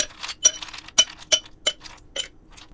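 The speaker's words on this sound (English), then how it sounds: "Now that I have my ice, I'm going to drop some of that into the glass." Ice cubes dropped into a cocktail glass while mixing a Kraken Black Spiced Rum and grapefruit soda drink: a sparse run of about six bright, sharp clinks at uneven intervals, close and fairly clear, with no talking.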